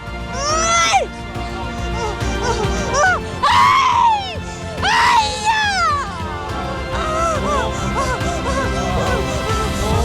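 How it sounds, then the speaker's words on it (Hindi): People wail, scream and shout at a faith healer's court, loud anguished cries rising in several bursts over a noisy crowded room. "इनके दरबार में पूरी तरह से चीखते चिल्लाते और अजीबो गरीब हरकतें करते हुए लोग नजर आते हैं"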